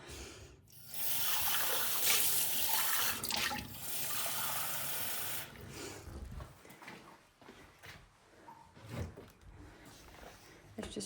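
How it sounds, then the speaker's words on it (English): Tap water runs steadily into a jug for filling a steam iron, a loud continuous rush for the first half before easing into quieter splashing and handling clatter, with no one speaking. "I need to put some water in the iron."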